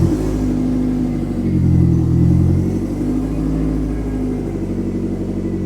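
Car engine fitted with a Motorsport Electronics ME221 ECU idling, a loud steady low rumble that swells briefly early on and then settles into an even, close running drone.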